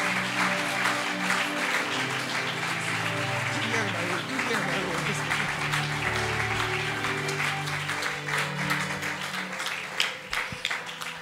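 A church congregation claps and acclaims together, dense sustained applause with cheering voices over music, continuous and fairly loud throughout.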